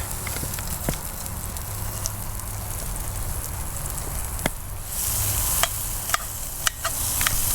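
Oxtail, potatoes and carrots caramelize over an open outdoor fire for a wild-style oxtail stew, giving a steady, fairly loud sizzle and crackle with occasional sharp pops and stirring clicks.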